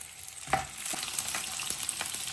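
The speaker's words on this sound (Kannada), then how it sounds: "ಸಾಂಬಾರ್ ಈರುಳ್ಳಿ ಒಂದು 15-20 ಎಣ್ಣೆಯಲ್ಲಿ ಹಾಕಿ ಸಾಂಬಾರ್ ಈರುಳ್ಳಿನ ಫ್ರೈ ಮಾಡಿ" About 15 to 20 sambar onions (shallots) frying in two spoons of oil for a fish saaru curry, giving a steady close sizzle with a few stirring clatters and no voices.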